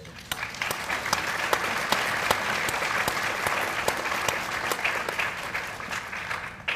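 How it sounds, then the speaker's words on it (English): Sustained applause from a crowd at a Navy change of command ceremony at Naval Hospital Beaufort, South Carolina, steady and dense clapping throughout with no talking over it. "if I could have a round of applause for them, I'd appreciate it"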